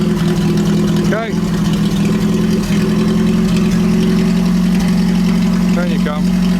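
A 1930s Citroen barn-find car runs under its own power, its engine holding a steady, loud, close idle with a droning low hum throughout, while a voice briefly speaks over it.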